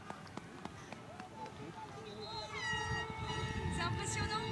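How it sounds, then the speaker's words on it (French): Boat and vehicle horns toot repeatedly in a crowded harbour at the Golden Globe Race finish for sailor Jean-Luc Van Den Heede, sounding from a distance over crowd noise and nearby chatter. "Vous devez entendre les klaxons."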